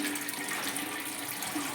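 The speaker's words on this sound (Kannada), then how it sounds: "ನೀರು ಬಂದ್ಬಿಟ್ಟಲ್ಲ ಮಮ್ಮಿ?" Water gushes steadily from a tap into a household storage tank, a continuous splashing rush that holds at an even level with no voices over it.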